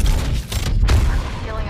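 A brief burst of gunfire in the battle royale shooter Apex Legends, loud and crackling in quick succession with a deep rumbling underlayer.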